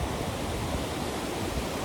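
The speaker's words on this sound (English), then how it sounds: "oh my God, the waves are like totally crashing" Ocean waves crashing on a shore, a steady wash of broad roaring surf noise with no pauses, close and fairly loud.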